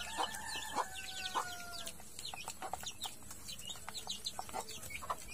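An angry mother hen clucks in a farmyard among her chicks, giving sharp, agitated calls in quick bursts over a busy background of peeping and other fowl, fairly faint and with no talk.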